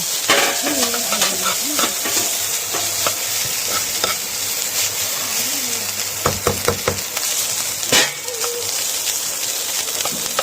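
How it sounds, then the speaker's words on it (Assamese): Rice stir-fries in a pan under a constant sizzle, with repeated scraping and clinking of a spatula stirring against the metal. "অলপ শুকান হৈ যোৱাকৈ ভাজি ল'ব লাগিব"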